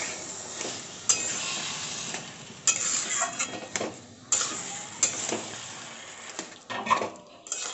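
Kochur shag (taro greens) being stirred with salt in a pan, with soft sizzling under repeated scraping and sharp clinks of a spoon against the metal pan.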